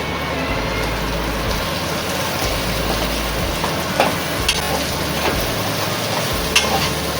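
Fish sautéing in a pan for an Agri-style tamarind curry, a continuous moderately loud sizzle with occasional soft stirring knocks.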